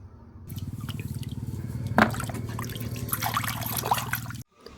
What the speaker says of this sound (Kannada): ಅದನ್ನು ಚೆಂದಾಗಿ ಕಟ್ ಮಾಡಿ ಅದನ್ನು ಉಪಯೋಗಿಸೋದೆ ಈ ರೀತಿ ತಿಕ್ಕಿ ತಿಕ್ಕಿ ತೊಳಿಬೇಕು